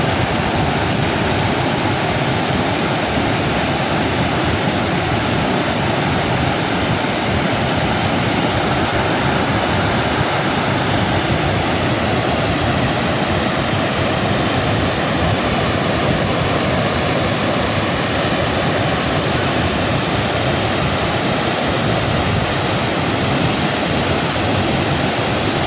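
Pykara waterfall in the rainy season, a steady, loud, broadband rush of heavy falling water that continues unbroken throughout, with no voices.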